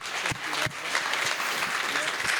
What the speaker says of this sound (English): give him a hand clap for that